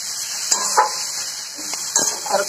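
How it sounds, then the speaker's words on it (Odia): Potatoes frying in a pan for a cauliflower curry made without onion or garlic, with a constant sizzle and a few spoon scrapes and stirs close by. "ଆଳୁ କଷୁଛି"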